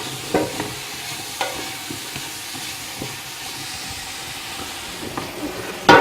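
Vegetables sautéing in a pot for couscous, a steady soft sizzle and hiss with occasional scraping stir clicks from a utensil, close and continuous, no talking.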